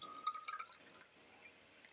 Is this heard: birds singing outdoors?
no